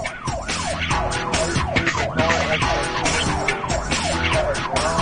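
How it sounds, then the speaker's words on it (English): Loud, continuous police siren wailing up and down in rapid sweeps, close by, with engine and road noise underneath. "the trooper has been flashing his lights and blaring his siren for 6 miles"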